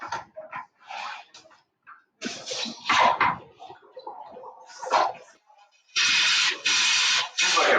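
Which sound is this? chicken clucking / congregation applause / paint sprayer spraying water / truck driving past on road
paint sprayer spraying water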